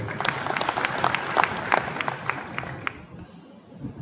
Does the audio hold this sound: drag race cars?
no